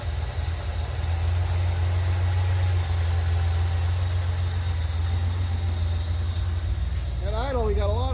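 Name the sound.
Jaguar E-Type engine idling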